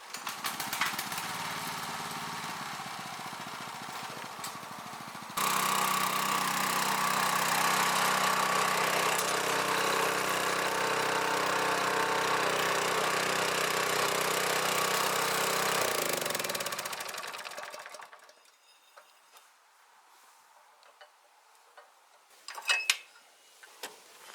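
Single-axle walking tractor engine running steadily and loudly close by, rising to a harder, fuller drone midway, then cutting out and fading to quiet with a few small clanks at the end.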